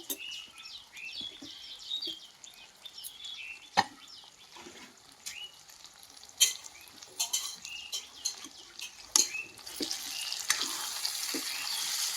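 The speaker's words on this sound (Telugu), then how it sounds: "కడాయి పెట్టుకుంటున్నాను అల్లం వెల్లిపాయ పేస్ట్ వేసుకుంటున్నాను" Ginger garlic paste frying in a kadai, a steady soft sizzle with scattered crackles and a few sharp clinks of utensils, close and moderately loud, with no talking.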